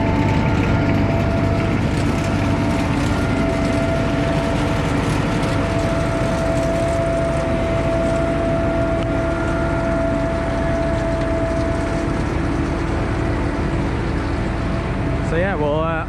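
Steady engine drone of a Fendt 312 tractor running with an SFM cider apple harvester in an orchard, a constant low rumble held throughout with a faint whine and a brief rising squeal near the end.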